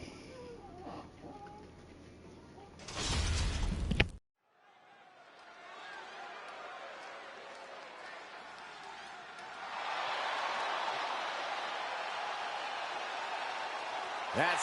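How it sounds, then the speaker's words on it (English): Glass shattering as a wrestler's entrance cue in the wrestling video game WWE 2K24, a short loud crash followed by a dip and then sustained crowd roar swelling and holding, with commentary voices over it. "That sound of breaking glass is the prelude to a beatdown."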